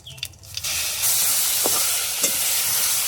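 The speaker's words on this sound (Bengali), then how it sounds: "ফুরনে জিরে দিয়ে ফুলকপিটা একটু ভেজে নেব" Loud, steady hiss of cauliflower frying with cumin and five-spice in a hot pan, starting after a few brief clatters and continuing without pause.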